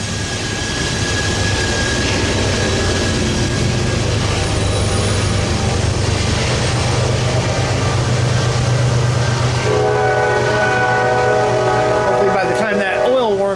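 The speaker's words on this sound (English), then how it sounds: "this train is a slow mover" A long, steady train horn blast over the deep rumble of a slow-moving freight train rolling by, loud and continuous throughout.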